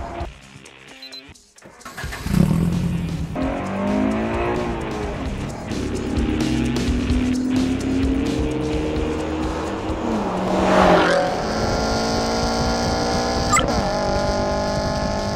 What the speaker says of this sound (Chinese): 现在陈亦凡已经下场开始测单圈了